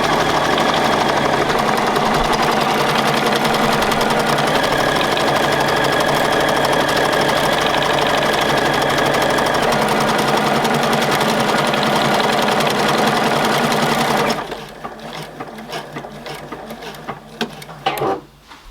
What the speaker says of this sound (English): when I press the start button, it will automatically start stitching